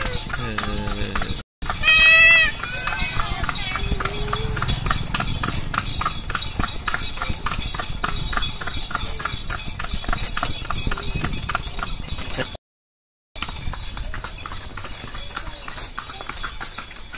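Rhythmic clip-clop of horse hooves on a hard surface from a horse-drawn cart in Indonesia, steady and fairly close, with voices and a brief squeal over it.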